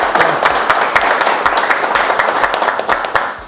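An audience at an electromobility and EV charging training session applauds an ABB engineer, a steady wash of many hands clapping at close range, fairly loud and sustained with no talk over it.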